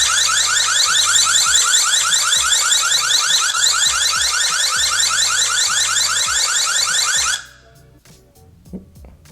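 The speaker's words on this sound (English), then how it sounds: "It has an alarm that you can sound. Let's go ahead and see how loud that is." An indoor security camera, a Eufy Indoor Cam 2K Pan & Tilt, sounds its alarm siren: a loud, rapidly warbling electronic tone pulsing for about seven seconds, then cutting off abruptly into near silence.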